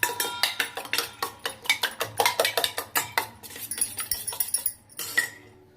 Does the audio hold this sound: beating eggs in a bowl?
yes